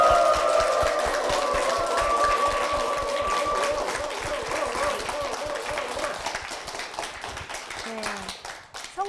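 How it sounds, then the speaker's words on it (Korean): Applause from a Korean church congregation honouring its pastor and church, a dense patter of clapping running the whole stretch beneath a sustained tonal sound and some voices, thinning slightly toward the end. "교회를 위해서 힘찬 박수 부탁드리겠습니다."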